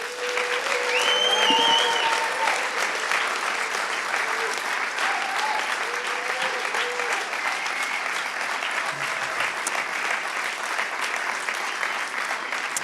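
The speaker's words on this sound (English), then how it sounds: "please give a very great clapping to the wonderful Crossing Europe team" Festival audience at the Crossing Europe awards ceremony gives a sustained, dense round of clapping that holds steady throughout, with a few faint voices and whistles mixed in.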